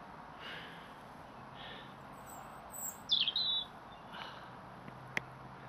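A robin gives a short burst of thin, high, twittering territorial song at night, alone against a quiet background, with a few fainter notes around it.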